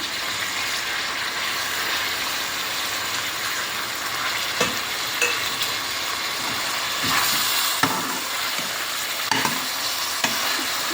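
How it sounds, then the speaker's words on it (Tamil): Tomato, mint and coriander sautéed in a pan for chana biryani, giving a loud, continuous sizzle with occasional scraping stir strokes and soft clacks throughout. "இதையும் சேர்த்து இப்போ நல்லா வதக்கணும்."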